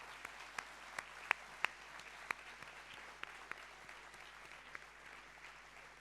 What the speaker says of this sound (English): they deserve a great round of applause for not giving up